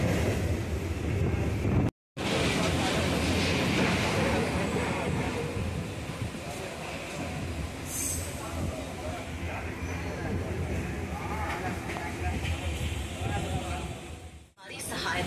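A Howrah-Midnapore local train runs near Mecheda station with a loud, steady rumble and rattle from start to finish. The noise cuts out briefly near the start, and voices are faintly present under it.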